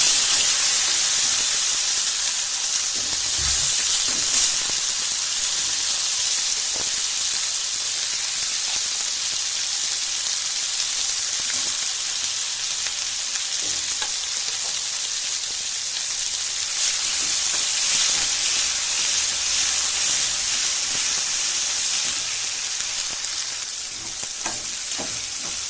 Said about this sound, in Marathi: हा शेंगदाण्याचा गोळा आहे ना, हा सारण हे चांगलं तेल सुटेपर्यंत परतून घ्यायचं